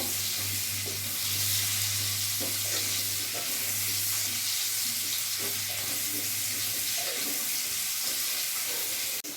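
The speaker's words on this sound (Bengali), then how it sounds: "আলুগুলো আমি একটু লাল লাল করে ভেজে নেব।" Potatoes fry in hot oil in a pan, a steady, close sizzle with occasional stirring clinks over a low continuous hum from the stove.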